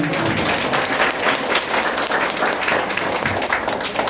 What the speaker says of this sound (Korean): 정강용 회장님께 큰 박수 한번 부탁드립니다